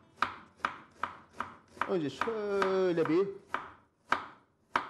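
Sharp knife chops carrots on a cutting board while a Turkish köfte and rice pilaf dish is prepared, with evenly spaced crisp strikes; someone speaks briefly midway, covering a few strokes.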